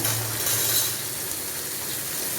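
Avoli (pomfret) fish frying in hot oil in a pan, a steady broadband sizzle with a faint low hum underneath, close and continuous with no talk.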